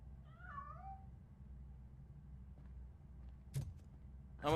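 A cat meowing in a video game, a couple of faint wavering mews near the start over a low background hum, followed later by brief clicks and a thump.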